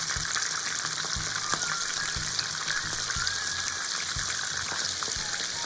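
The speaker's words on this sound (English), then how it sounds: "Heat oil and add paprika. Also fry the shiitake mushroom." Paprika and shiitake mushrooms frying in hot oil, a dense steady hiss and crackle with faint periodic low knocks throughout, close and continuous.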